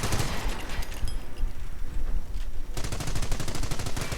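A .30 caliber machine gun emplacement fires sustained rapid bursts in a World War II strategy game battle, loud dense automatic fire with other gunfire mixed in, then a crisp steady rattling stream.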